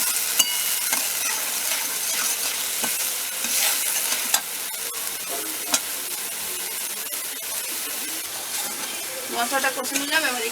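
Spice paste with salt stir-fried in an oil pan for a rohu fish curry, a steady loud sizzle with scraping stirs and sharp clicks of a spatula throughout, ending in a burst of bubbling.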